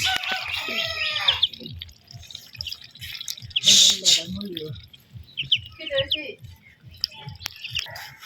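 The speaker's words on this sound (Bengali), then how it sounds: "সিনা হাঁস আর কি সিনা হাঁসের বাচ্চারা কি সুন্দর তো" Ducklings peep in short, high chirping bursts near a rural home, loudest at the start and then scattered and faint, mixed with people talking nearby.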